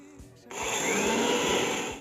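An electric mixer grinder whirs into life and runs steadily at high speed, grinding fried puffed rice (khoi) into powder, loud and close after a brief quiet start.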